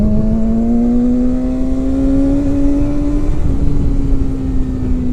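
A BMW S1000XR motorcycle rides along, its engine giving a steady droning tone that climbs slowly in pitch over a constant roar of wind noise, with a brief dip near the end.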